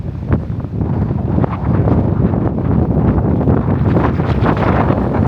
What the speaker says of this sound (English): The wind was still out of control